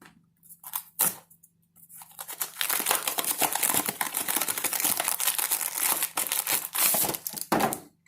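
A bag holding a 1-pound box of confectioners' powdered sugar is handled and crinkled, giving a long stretch of loud, close rustling and crackling plastic with short pauses, and no voices.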